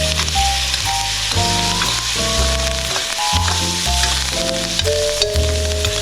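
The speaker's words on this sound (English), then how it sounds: "I'm going to keep it over the fire and just bury these in the herbs. Start basting it." Salmon fillets sizzle steadily in a hot pan over a fire while being basted with herbs, a loud continuous frying hiss with crackles throughout and no talking.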